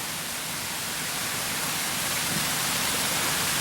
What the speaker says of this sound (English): that rain is starting to come down